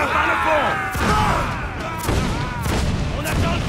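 Several deep booming cannon blasts from a sailing warship in Assassin's Creed Black Flag, loud and spaced roughly every half second to a second, layered over a busy naval battle with voices and music.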